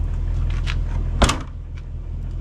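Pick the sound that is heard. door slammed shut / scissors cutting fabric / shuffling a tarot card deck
door slammed shut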